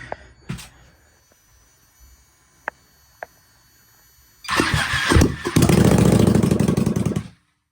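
Ducati 1199cc engine swapped into a Honda Grom, cranking and firing up on a cold day, a few faint clicks first, then a loud raspy exhaust roar that revs and cuts off.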